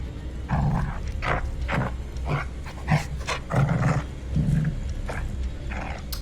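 A dog growls and snarls in the horror video game The Devil in Me, in repeated rough, throaty bursts at close range, loud and with no talk over it.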